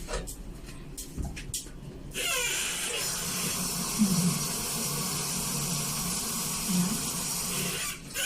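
A steady broadband hiss like water boiling with steam, continuous and moderately loud, following a few sharp clattering knocks at the start.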